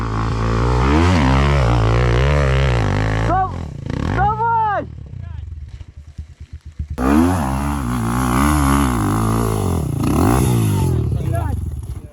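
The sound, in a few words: Chinese 300cc enduro motorcycle riding up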